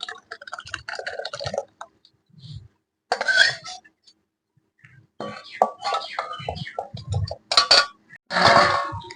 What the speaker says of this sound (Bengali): গামলাতে এবার আস্তে আস্তে ডালটাকে আমি ঢেলে দেবো।